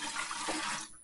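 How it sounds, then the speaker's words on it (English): Tap water pouring steadily into the top-fill tank of a warm and cool mist humidifier, a continuous close splashing rush for about a second that fades out at the end. "so you put some water in it"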